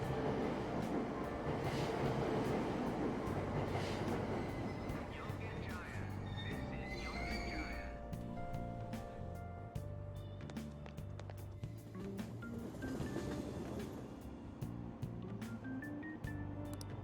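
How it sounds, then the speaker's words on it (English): A crowded subway car in Persona 5 Royal rumbling steadily along the rails, a continuous loud rolling roar with shifting metallic tones and faint high squeals throughout, no pauses. "A subway car crammed like this."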